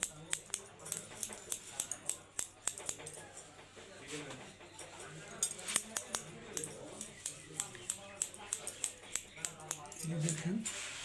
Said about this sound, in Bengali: এই যে দেখেন আমি একটু এটাকে জিগজ্যাগ করে দিচ্ছি।